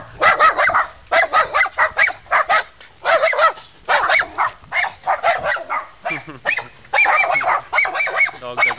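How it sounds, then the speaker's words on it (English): Several dogs bark in rapid, repeated bursts at close range, loud and insistent across the whole stretch, with short gaps between volleys and no talk over them. "Dogs are going crazy."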